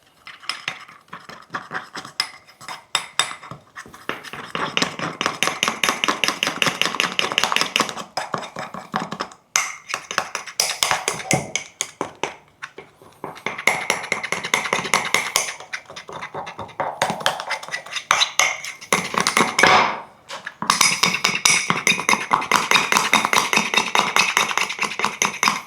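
A spoon stirs a runny, custard-like sauce in a cup, giving rapid continuous clinking and scraping against the sides in long bursts with short pauses, close and loud.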